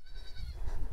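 A single goat gives a short, close bleat lasting about a second, alone without talk.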